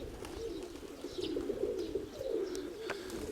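Pigeons coo in a low, throaty series of rolling calls, steady and fairly close, with a few faint higher chirps in the background.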